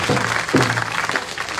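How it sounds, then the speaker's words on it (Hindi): Crowd applause at an election political rally: dense, continuous clapping from a large gathering, loud and steady for the whole moment, with a faint voice briefly rising through it. "ये मेरी माताओं की जो तालियां हैं"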